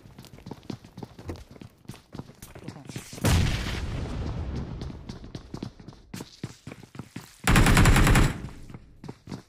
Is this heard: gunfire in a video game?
yes